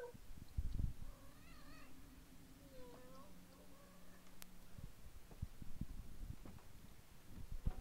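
A cat meows softly a few times indoors, short wavering calls standing out faintly against a low background hum, with people talking quietly around it.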